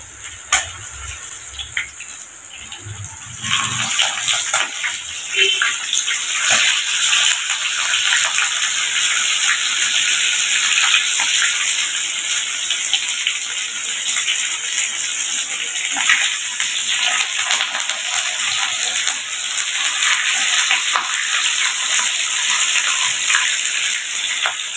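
Fish frying in hot oil, a steady close sizzle that rises after a few seconds and holds continuously, with occasional pops and spatters and no talk.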